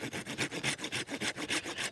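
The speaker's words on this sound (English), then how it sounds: "Let me get my saw. That is solid. Let's cut this one here." Hand saw cutting through a solid, resin-rich piece of fatwood, with about a dozen quick, even back-and-forth rasping strokes at close range and no talking.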